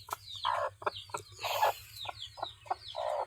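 Easter Egger hen clucking at close range in a small backyard flock, a series of short rhythmic clucks and squawks in quick succession over a low steady hum.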